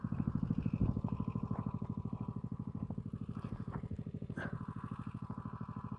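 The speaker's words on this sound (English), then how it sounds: "pump's back to idle, valve's off, and the hose is holding pressure" A small pump engine on a fire hose rig idles steadily, a fast, even, low chugging pulse, close and continuous, with faint clinks above.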